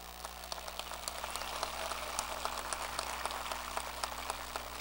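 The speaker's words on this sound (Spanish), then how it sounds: "Fuertes aplausos para él." Applause at a university ceremony at UNSA honoring the vice-rector for research: a steady, fairly faint wash of many hands clapping at a distance over a low hum, with no talking.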